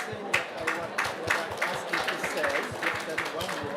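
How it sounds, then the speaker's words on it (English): An audience at a clean energy panel event claps for the panelists, a moderate, steady patter of applause from a modest crowd. "If we can give them a round of applause"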